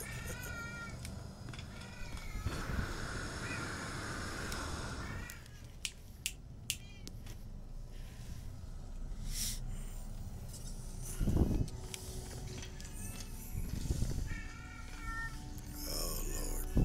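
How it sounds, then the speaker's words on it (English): A cat in heat meows and yowls close by in a home, with loud drawn-out cries recurring across the stretch among clicks and handling noises. "my kitty cat's in heat."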